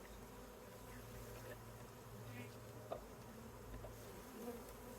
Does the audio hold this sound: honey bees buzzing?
yes